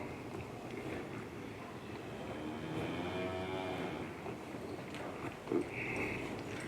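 Cattle low under steady outdoor noise at a ranch in Weatherford during a cutting-horse session, with one moderate bellow rising in the middle and a brief cry near the end.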